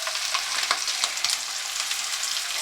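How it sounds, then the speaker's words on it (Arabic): Tomato juice poured into a hot pan for kofta Dawood Basha, sizzling loudly and close with a continuous frying hiss and scattered sharp crackles and pops, no voices. "هنزل بعد كده بعصير الطماطم."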